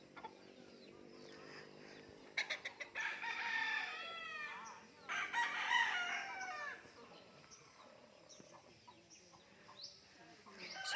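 Chickens outdoors in a farm area with mango and banana trees cluck and crow nearby, with a rooster's cock-a-doodle-doo rising over scattered clucks against a faint background hum.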